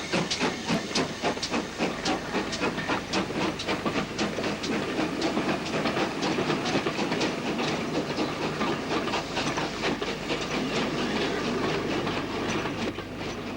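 Steam locomotive Coney Hall pulls away from a station platform in the 1960s, with loud, steady hissing steam and a rapid train of chuffs and clanks, close and continuous with no talk.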